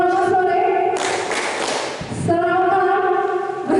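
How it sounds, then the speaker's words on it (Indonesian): Group of people clapping together in a greeting game, a dense burst of hand claps lasting about a second, set between stretches of a speaking voice. "selamat sore tepuk 3 kali"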